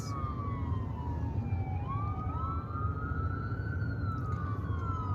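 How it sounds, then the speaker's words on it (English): An ambulance siren wails in the distance, its rising and falling tone drifting steadily over constant road and traffic rumble, with no talking. "Are you supposed to stop when the ambulance is coming?"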